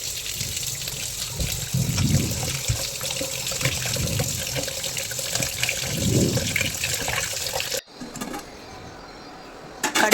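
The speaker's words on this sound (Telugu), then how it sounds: "ఇప్పుడు నీట్గా కడిగేసుకుందామండి బియ్యం" Rice being rinsed under running tap water for bagara rice, a steady close gush and splash into a vessel for about eight seconds before the flow cuts off, leaving quieter handling sounds.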